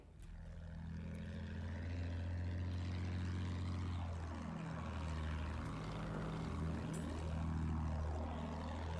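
A propeller airplane engine drones loudly in the video game Battlefield 1, a constant heavy hum with pitch sweeping down and up in wide arcs as the aircraft banks and dives.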